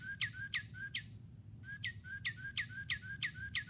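A cardinal repeats a clear, rising whistled note in a quick series, pauses, then resumes the same steady rhythmic phrase over a low background hum.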